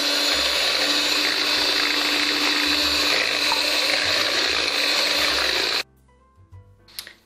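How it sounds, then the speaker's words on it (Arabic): An electric hand mixer whirs steadily and loudly as it beats egg yolks while oil trickles in, running continuously for several seconds and then cutting off, leaving a few faint clinks. "كنضربوا داك الصفر حتى كيبيض هكا شويه، وكنزيدوا له داك الزيت شويه بشويه"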